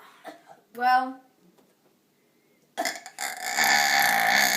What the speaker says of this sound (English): and my final burp.